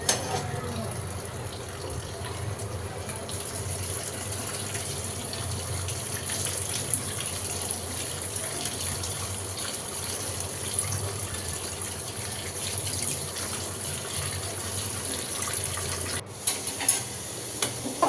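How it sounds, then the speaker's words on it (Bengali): Tap water runs steadily while pointed gourd and ivy gourd are washed, a continuous close splashing gush that stays even throughout with a brief dip near the end. "এখন পটলটা আর দুন্দুলটা ধুয়ে নিচ্ছি"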